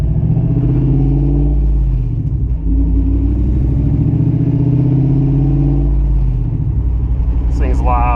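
V8 drift truck engine rumbling loudly and steadily from inside the cab while driving over bumps, with a deep continuous drone that shifts slightly in pitch. The engine dominates throughout.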